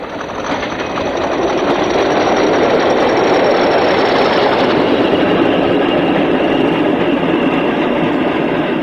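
A British Rail Class 40 diesel locomotive passes Beale on a northbound line ahead of the Aberdonian, a loud continuous engine roar and rolling wheel rumble that swells and holds steady close by, with no voices.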